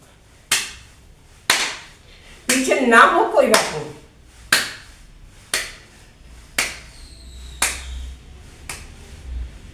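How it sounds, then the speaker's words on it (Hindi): Hands clap sharply in a steady series during a yoga exercise, alternating claps in front of the body and behind the back, about one every second, with a brief stretch of speech in the middle. "आगे ताली, पीछे ताली।"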